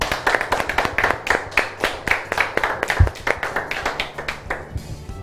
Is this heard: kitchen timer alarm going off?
no